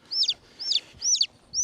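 Chickens in a chicken tractor give four evenly spaced, bright chirping clucks, fairly close and alone with no talk.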